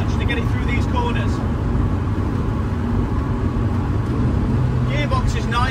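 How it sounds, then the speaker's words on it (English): Vauxhall VX220 sports car with a 150 brake horsepower engine driving through corners in fourth gear, a steady loud engine drone and road roar heard from inside the car, with someone talking over it. "Little prod in fourth gear, again, it's only got 150 on brake horsepower, but it doesn't need much to get it through these corners."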